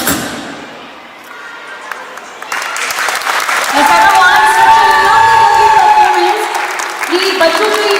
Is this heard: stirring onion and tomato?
no